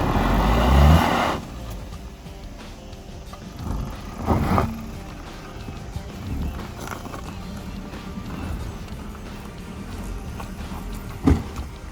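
A Vitara Brezza grinds over rocky off-road terrain, a low engine drone mixed with scattered knocks and thuds from the wheels on stones, moderately loud, with faint voices now and then.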